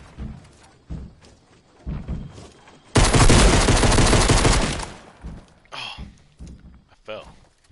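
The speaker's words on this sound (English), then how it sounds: "Oh, his shotgun." A shotgun blasts in a video game: one loud, sustained burst of gunfire lasting about two seconds, with people talking before and after it and quieter game sounds around.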